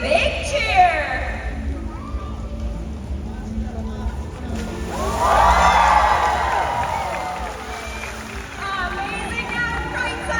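A crowd cheers for Malia the killer whale's big jump at SeaWorld Orlando. Quieter crowd murmur and a voice come first, then a loud swell of cheering and some splashing midway through that slowly fades.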